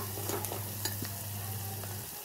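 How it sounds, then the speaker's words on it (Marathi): Turmeric sautéing in hot oil, a faint, steady sizzle with a few soft stirring scrapes, low and close throughout with no voices. "तर हळद लगेच करपते। छान असं चांगलं परतवून घ्यायचं तेलामध्ये।"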